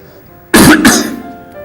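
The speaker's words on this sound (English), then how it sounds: "the cough continued and became worse" A person gives one loud, close double cough with a throat-clearing rasp, two quick harsh bursts that fade into quiet.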